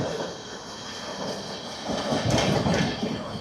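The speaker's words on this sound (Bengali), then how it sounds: "বন্ধুরা ক্রসিং হলো গয়া হাওড়া বন্দে ভারতের সঙ্গে" The Gaya–Howrah Vande Bharat train rushes past on the adjacent line, heard from inside the moving Vibhuti Express, as a loud swelling roar that peaks mid-clip over steady rumble.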